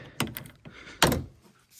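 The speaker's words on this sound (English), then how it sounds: "Open this little door" Small plastic access panel on an Acura RDX or MDX interior being pried open, giving two short distinct clicks and thunks close by, with fainter handling rustle between them.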